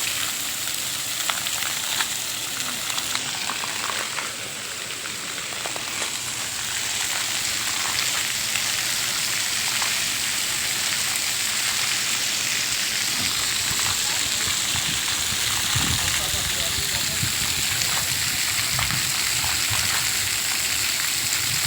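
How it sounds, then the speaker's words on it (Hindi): Water pours steadily from above in a children's water play area of an Australian garden, a continuous loud splashing hiss throughout, with voices faintly underneath. "ये इस तरह से पानी या रेगुलर ऊपर से नीचे की तरफ चलता रहता है"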